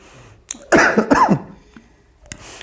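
A person coughs several times in a short harsh burst, close up, followed by quieter throat sounds.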